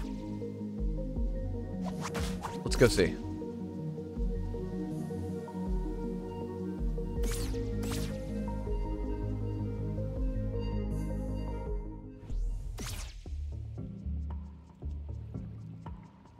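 Water drips in the video game Tunic with a few sharp, spaced plinks over a low ambient background, and someone briefly speaks.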